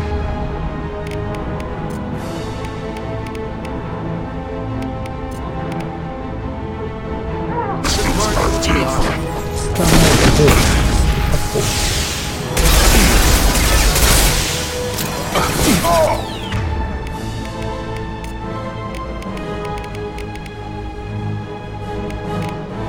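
Explosions and gunfire from the video game Mass Effect 2 erupt in a loud, dense burst of blasts mid-clip over steady game background sound, then fade back to quieter ambience.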